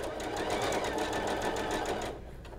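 A sewing machine stitching pieced quilt block fabric runs in a fast, steady whir for about two seconds, close and loud, then stops abruptly, with faint room sound afterward.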